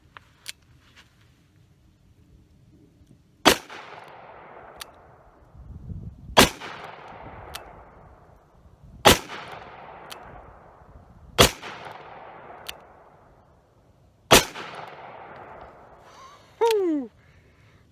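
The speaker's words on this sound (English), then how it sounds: "Now I've got 6 rounds of 357 Magnum." Six loud .357 Magnum gunshots are fired at a bulletproof backpack, evenly spaced about two to three seconds apart. Each sharp crack rings out with a fading outdoor echo.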